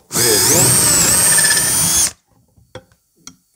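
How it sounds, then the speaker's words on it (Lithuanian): A power drill bores into a furniture panel through a drilling jig: one loud, close two-second run with the motor pitch wavering under load, then it stops abruptly, followed by a few light clicks and knocks. "gręžiu į kraštinės ir vidurį tik tai pažymiu"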